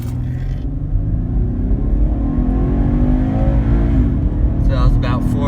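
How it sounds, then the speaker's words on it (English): A 2011 Cadillac CTS pulls hard from a standstill to just past 60 mph, its engine note climbing steadily and loudly from inside the cabin, with a short lag near the top. "We're going to go to 60 and a little over, and we're going to show you how it accelerates."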